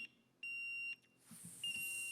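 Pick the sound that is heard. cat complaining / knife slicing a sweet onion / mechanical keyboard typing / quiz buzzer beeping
quiz buzzer beeping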